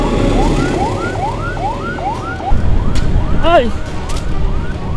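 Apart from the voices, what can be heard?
ambulance siren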